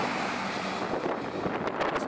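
Strong wind buffets the microphone outdoors in Iceland, a rough continuous roar with gusty bursts growing toward the end, no voices present.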